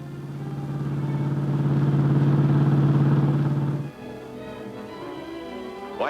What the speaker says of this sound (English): Giant shovels scoop the coal directly from the surface of the mine into trucks